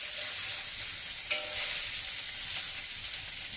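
Fresh asparagus stir-fries with pork belly in a hot wok, giving a loud, steady hiss of sizzling oil with an occasional brief scrape of the spatula.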